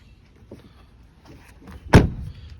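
A door on a repaired Ram truck, its post and rocker fixed in a body shop, closes with one solid thud after a little faint handling noise.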